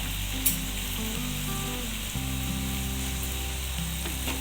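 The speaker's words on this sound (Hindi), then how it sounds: "जो काटे हैं, इसी ऑयल में हमने फ्राई करने हैं।" Chopped tomatoes fry in oil in a pan for okra and mutton curry, giving a constant, fairly loud sizzle with a low steady hum behind it and a brief clink near the start, with no voices.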